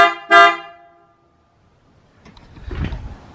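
PIAA Superior Bass car horn gives one short, loud honk, fades into quiet, then rumbling engine or handling noise follows nearby.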